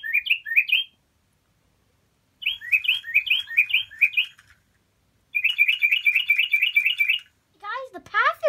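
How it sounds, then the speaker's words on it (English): Birds chirp in repeated quick bursts of high, rapid tweets separated by short silences, ending with a descending whistled call. "I hear birds."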